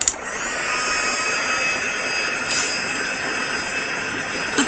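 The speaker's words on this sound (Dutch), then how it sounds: "Zo, daar even weer de föhn op zetten." A hair dryer blows steadily during a powder nail-art session, a loud and constant close whooshing airflow that holds for several seconds with no talking over it.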